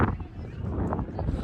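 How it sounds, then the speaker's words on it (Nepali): Cold wind gusts buffet the microphone outdoors in the Nepali hills at a fair, a loud, continuous low rumble for a brief moment. "चिसो हावा हाल्न थाल्यो"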